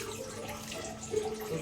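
Water is poured over fish pieces as they are washed in preparation for a Karnataka-style tawa fish fry, a steady close splashing stream running throughout.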